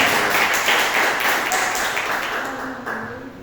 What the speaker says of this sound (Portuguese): vamos receber a líder de missões, a missionária Eva, por palmas para Jesus